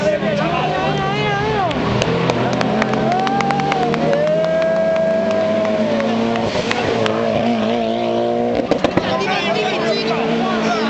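Racing cars at the Jarama circuit in Spain roar past amid a BMW and Mercedes field, engines droning steadily with rising and falling pitch as they pass, mixed with excited spectator talk nearby.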